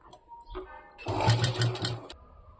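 A sewing machine runs a second line of stitches along folded cloth in one steady burst of about a second, close and fairly loud, with quiet handling noise before and after.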